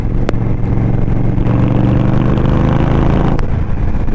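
2023 Indian Scout Rogue motorcycle under way, its engine droning steadily loud with a slight rise in pitch and wind rush throughout, and two brief sharp clicks at the start and near the end.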